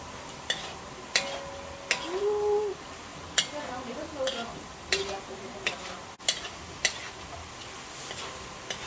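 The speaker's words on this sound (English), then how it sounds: "now you add that to the sauce and then you stir it" Orange chicken pieces are stirred into a sauce in a pan, with soft sizzling and scattered sharp clinks of a utensil against the pan repeating through the clip. Faint voice-like sounds drift in between.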